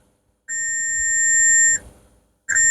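Two electronic continuity beeps from a multimeter testing for a short on a laptop motherboard: a steady high tone held over a second, a short pause, then it sounds again.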